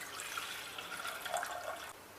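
Water is poured into a bowl to start a rice kheer, giving a faint, continuous splashing trickle with a few small drips and no talk.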